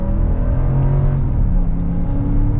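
A used Jeep Wagoneer with a Hemi V8 revs and pulls hard, its deep engine growl heard from inside the cabin as a loud, continuous roar with rising and falling pitch throughout.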